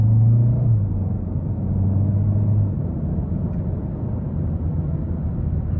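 A 2021 Kia K5 LX with its 1.6-liter turbo engine accelerates on the road, giving a steady low rumble of engine and road noise from inside the cabin with a brief tire spin at the start, and no one talking.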